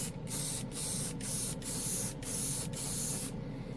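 An airbrush sprays hobby paint onto spoons in short, steady hissing bursts, about five close passes separated by brief gaps of near silence.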